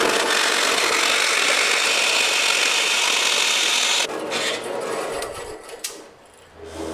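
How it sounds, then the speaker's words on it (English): A pipe coping tool driven by a drill bit cuts into metal pipe for a tractor rolling chassis, giving a steady, loud, continuous grinding rasp that thins and falters near the end as the cut finishes. "I can use this pipe coping tool to cut where I need it to cut"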